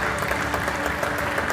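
An audience applauds at an award ceremony at the CCB in Lisbon, steady dense clapping throughout the short stretch with no pauses or voices.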